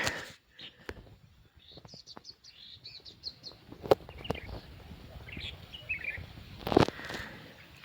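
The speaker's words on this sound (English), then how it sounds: "I swear those fucking birds are saying drink, drink." Birds near the northern Thai border give short chirps and calls, faint and scattered over quiet outdoor background noise, with a few sharp clicks and knocks mixed in.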